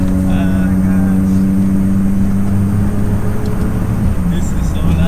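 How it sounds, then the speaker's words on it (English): Built 700bhp R33 Nissan Skyline GTST with the silencer removed, its exhaust a steady, loud, droning rumble heard from inside the car while driving, with no let-up across the few seconds. "Man, this car is loud. As soon as I took that silencer off"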